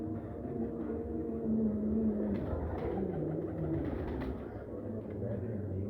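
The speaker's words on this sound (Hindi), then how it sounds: "ये डब वाले कबूतर हैं" Dab pigeons kept by a breeder coo softly in low, rolling calls close by, with faint background murmur.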